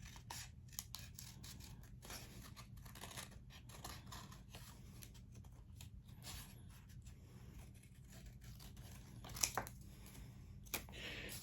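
Scissors snip steadily through folded paper to cut out a Christmas angel figure, a close run of crisp cutting strokes with a few sharper clicks near the end, no talking over it.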